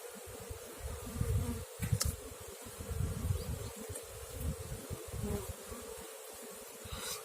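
Honey bees fly around their hives on a cool early-spring day during the first cleansing flight, a dense, wavering swarm hum that swells and dips, close by with no voices.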